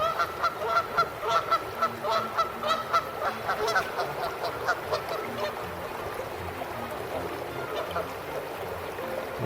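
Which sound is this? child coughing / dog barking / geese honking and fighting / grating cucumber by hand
geese honking and fighting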